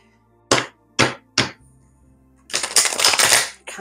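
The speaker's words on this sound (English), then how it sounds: "Can't shuffle these cards, they're so thick." Three sharp separate slaps, then a burst of riffling as a thick deck of tarot cards is shuffled close by.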